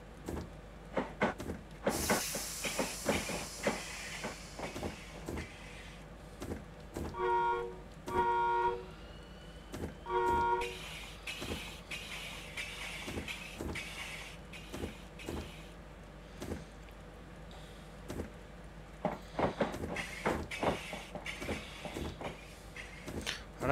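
A Class 91 electric train on the London to Peterborough line, halted by trees on the line, gives off soft broad hisses amid steady clicks, a few short electronic beep tones and a low background hum.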